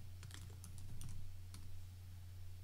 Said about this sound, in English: let's type out just a little bitty quote